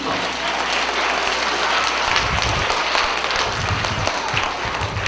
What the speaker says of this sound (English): Round of applause for all of these people.